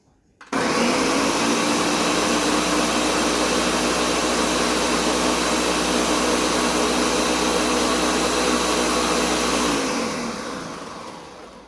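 A blender roars loudly and continuously for about ten seconds blending a spicy green sauce, a dense whirring motor sound that fades out at the end.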